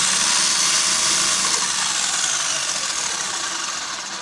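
The 540 brushed motor of a PXtoys Piranha 9200 1:12 scale 4WD RC car whines at full throttle, a high, steady electric buzz close to the microphone that slowly fades toward the end.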